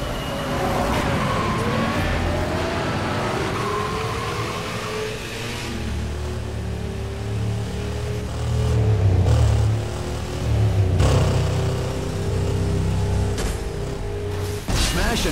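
A car in Burnout Paradise accelerates hard, its engine note rising and holding at a loud, sustained roar, with road rumble and game sounds underneath.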